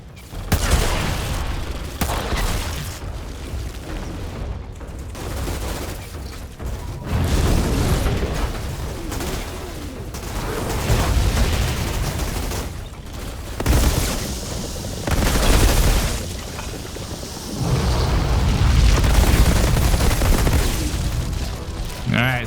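Dense gunfire and fiery ability explosions from the Pyromancer class in the video game Outriders crackle and boom almost continuously, loud and layered with bursts, pops and heavy blasts throughout.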